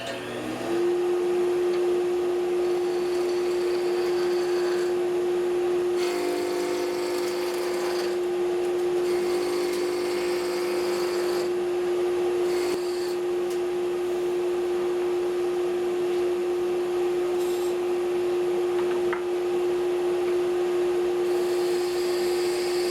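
A wood lathe spins while a tool shapes a wooden pepper mill piece, a steady droning hum with scraping and rasping cuts that come and go in short stretches, close and continuous.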